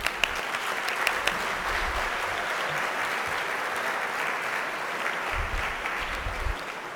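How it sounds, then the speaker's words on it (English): Sustained applause fills a student reception at an evening geoscience conference event, a steady dense clapping from a sizable crowd that holds at an even level for the whole stretch with no talk over it. "So let's all give them a round of applause."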